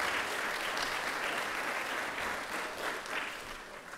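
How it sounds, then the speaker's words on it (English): An audience at a university program's closing ceremony keynote gives a dense, steady round of applause that carries on evenly throughout. "Can I get another round of applause for y'all?"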